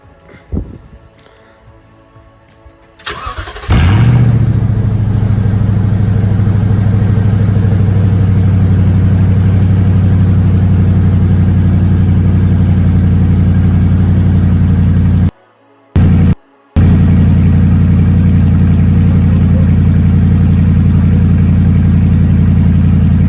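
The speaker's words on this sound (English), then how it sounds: "now I'm gonna start it with no exhaust, and we're gonna see what it sounds like." A Toyota TRD truck engine with no exhaust fitted: quiet handling noises, then the engine fires up and settles into a very loud, deep, rumbling idle that runs on, broken by two short cutouts.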